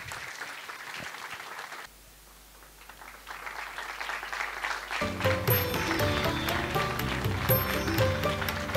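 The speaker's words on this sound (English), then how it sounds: "A big round of applause for the entire magazine team" Applause rises from an audience at an architecture college event honoring a magazine team, a moderate clatter of clapping that dips briefly, then builds and continues with music and background noise joining in.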